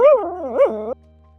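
A dog lets out a single drawn-out, wavering yelp that rises and falls in pitch for about a second, close and fairly loud, then stops abruptly into near silence.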